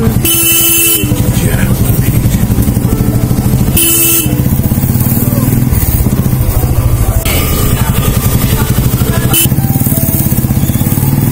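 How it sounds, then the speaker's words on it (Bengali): A motorcycle on a morning ride, its engine droning loud and steady throughout, with wind rush and a few short horn-like bursts from nearby traffic. "সকালে বাইক রাইডিং এর একটা আলাদাই মজা।"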